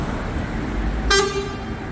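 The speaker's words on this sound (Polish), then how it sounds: "A kierowcy, nawet autobusów, nie oszczędzają klaksonu." Prague street traffic with constant low engine rumble and road noise. One short, clear horn toot sounds from a vehicle partway through.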